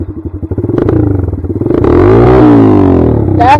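A Kawasaki KLX140 dirt bike engine revs hard under throttle, rising from choppy low blips into a sustained loud roar that climbs and eases, recorded up close with no talking.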